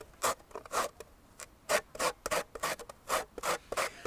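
Lemon zest is grated for a nutmeg cake in a series of short, uneven scraping strokes, close and moderately quiet, with irregular pauses between passes.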